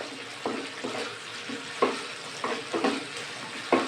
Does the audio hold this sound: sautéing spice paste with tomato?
yes